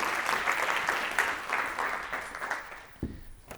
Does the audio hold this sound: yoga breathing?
no